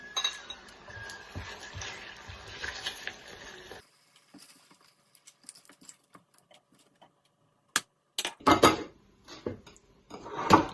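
Metal utensils clinking against a pan while fried potatoes are lifted out, several sharp taps and scrapes near the end following a stretch of soft frying patter, with no talking.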